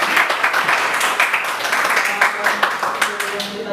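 Classroom audience clapping after a presentation, a steady dense patter of many hands at close range, with voices faintly mixed in.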